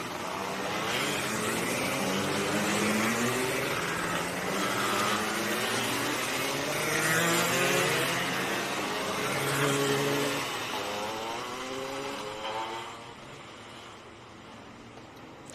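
Gearbox racing karts heading out onto the circuit for a club championship heat. Several engines make a buzzing, revving drone that swells and fades as the pack passes, then thins out toward the end, with no talk.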